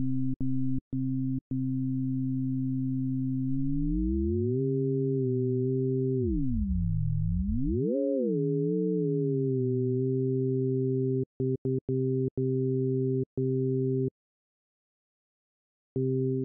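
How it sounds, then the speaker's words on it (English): u-he Zebra synth FM oscillator in ring modulation mode gives a steady buzzy tone that bends down into a dip and swoops back up before settling, with sharp clicks scattered near the start and end and a brief silence before it stops. "So currently, we're actually hearing both the oscillators."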